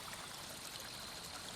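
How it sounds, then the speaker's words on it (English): Steady flowing stream of water in a nostalgic train-themed video game, a continuous broadband rush with a faint trickle, no voices over it. "Oh, is that water moving?"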